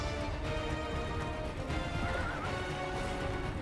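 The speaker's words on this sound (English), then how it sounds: "Cavalo voador." A flying horse in the video game Persona 3 Portable gallops with steady clip-clop hoofbeats and a whinny, heard at a constant moderate level.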